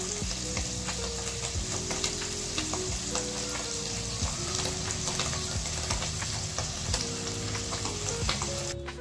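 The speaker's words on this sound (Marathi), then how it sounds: "आता आपल्याला दुसऱ्या बाजूने ते 4 ते 5 मिनिटं भाजून घ्यायचे आहे" Steady, close sizzling of paneer frying in a hot pan, with occasional light scraping as it is turned, continuous throughout with no talking.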